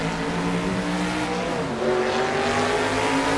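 A Formula 5000 race car engine in Assetto Corsa, a loud continuous high-pitched drone that holds steady and then climbs in pitch as the car accelerates through the last section, with no talk.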